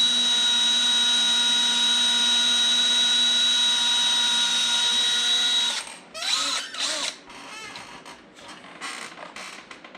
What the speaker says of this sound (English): it's critical that hole is drilled in the center of that lip